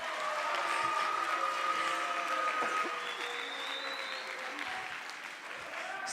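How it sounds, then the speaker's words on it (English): An audience at a student showcase claps in sustained, dense applause that fades slightly toward the end, steady and moderately distant with no talking over it. "Give him a round of applause."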